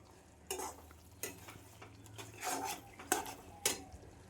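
Pigeon meat and spices being stirred in a pan: several separate scraping strokes of a utensil against the pan with a faint sizzle underneath, fairly close, and no voices.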